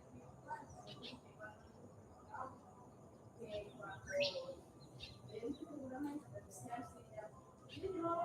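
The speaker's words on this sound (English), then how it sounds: "there's some really beautiful birds here" Small birds chirp in short, scattered calls around Uvita, Costa Rica, overlooking the Pacific, some bright and close, others faint in the background over a low ambient hum.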